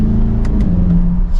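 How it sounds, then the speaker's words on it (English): Exhaust note of a 2023 Chevrolet Corvette 3LT 70th Anniversary in track mode, a steady low drone heard from inside the cabin at cruising speed, fairly loud and smooth with no talk over it. "you can hear a little bit of that exhaust note"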